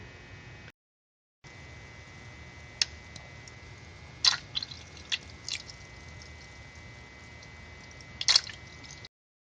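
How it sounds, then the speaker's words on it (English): Radiator coolant drains from a 1998 Nissan S14 240SX with a KA24DE engine into a small bucket, a steady soft hissing stream broken by a few sharp drips and splashes, close and fairly quiet, with no talking. "There's the drain plug for the radiator, and then we've got a little bucket right here that we're going to drain it into."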